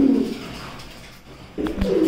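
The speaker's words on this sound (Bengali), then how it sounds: "এ পর্যায়ে দেখতে পাচ্ছেন এক প্যার জ্যাগোবিন কবুতর" A pair of Jacobin pigeons coo close up, a low throaty coo at the start, a brief lull, then another rolling coo near the end, with no voices.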